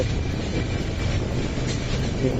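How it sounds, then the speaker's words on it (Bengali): A train passing nearby outdoors, a steady broad rumble with a continuous roar that holds at even loudness throughout, with no talk. "এই যে একটা ট্রেন আসলো এখন"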